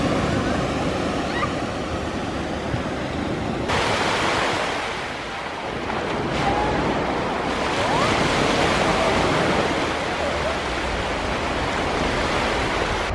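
Ocean waves wash onto Shek O Beach in Hong Kong, a broad steady roar of surf mixed with wind buffeting the microphone, easing briefly midway before swelling back, with no voices.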